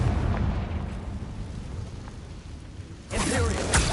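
Explosive Confringo spell blast in Hogwarts Legacy: a rumbling, noisy burst swells near the end over a low, steady ambient roar, loud and close.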